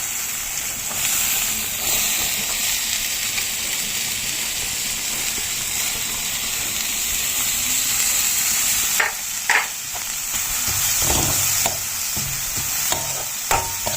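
Sliced onions frying in a pan for bread kothu, a constant hissing sizzle with scraping stir strokes that grow louder and more frequent in the latter part.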